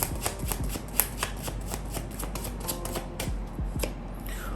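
Tarot cards being shuffled by hand for a reading, a steady run of soft papery riffles and flicks close up, with no talking.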